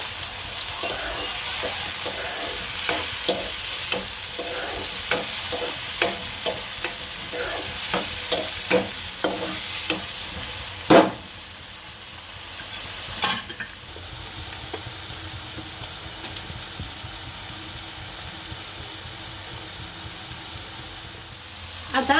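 Tomatoes and spices fry and sizzle in a pan for Gujarati sev usal, with a steady hiss and repeated clicks of stirring, plus two sharp knocks of a utensil against the pan midway.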